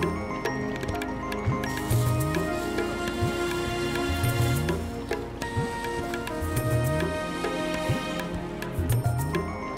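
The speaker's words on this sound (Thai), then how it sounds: "ตอนนี้ฝนตก" Rain falls steadily at a misty roadside viewpoint in Thong Pha Phum National Park, a soft continuous patter with occasional drips and cracks, mixed under repeating background music.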